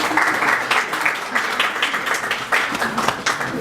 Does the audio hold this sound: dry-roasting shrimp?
no